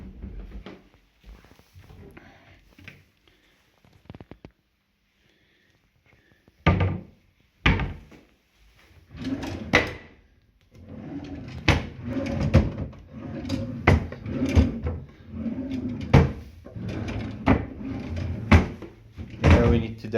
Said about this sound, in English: Now we need to demonstrate each drawer because I don't trust them.